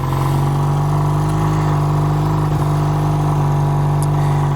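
A 440 motorcycle engine idles on choke while warming up, a loud, close, steady low thrum with an even rhythmic pulse, running alone without any talk.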